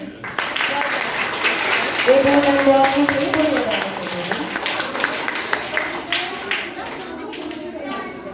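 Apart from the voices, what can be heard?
audience applauding a student at a school ceremony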